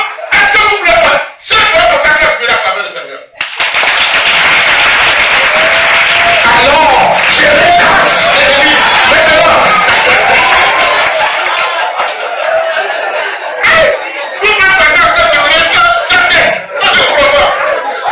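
A church congregation bursts into loud, sustained applause and cheering to acclaim the Lord, lasting about ten seconds, with a speaking voice and scattered claps before and after.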